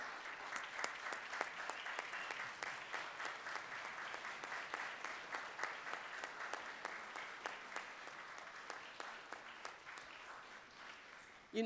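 Faint, distant applause from a festival audience for standing parents, a thin patter of individual claps with audible separate hand strikes, continuing steadily before ending abruptly.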